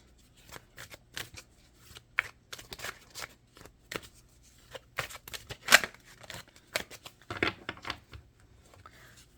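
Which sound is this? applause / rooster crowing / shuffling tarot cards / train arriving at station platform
shuffling tarot cards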